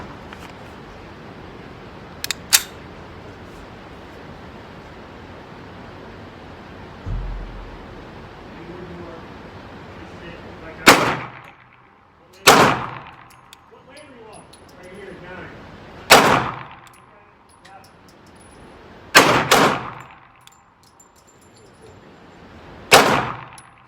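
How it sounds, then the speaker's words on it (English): A military-surplus Sig Sauer M17 pistol fires at an outdoor range: after a quiet stretch of background noise, about six sharp, loud reports ring out at uneven intervals, two of them close together. "First shots with a Sig M17"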